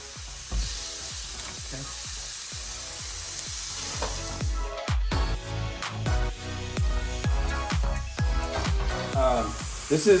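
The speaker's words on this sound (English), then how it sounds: "I'm browning about 2 pounds of beef and about a pound of sausage" About two pounds of beef and a pound of sausage brown in a hot pan, giving a steady close sizzle with repeated scraping and stirring clatter, while faint talk runs under it.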